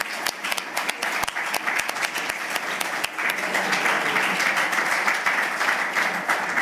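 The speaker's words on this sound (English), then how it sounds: "can we approve it by applause?" Applause rises in a conference hall at a COSAC meeting to approve a contribution, starting as scattered separate claps and swelling into fuller, steady clapping from the assembled delegates.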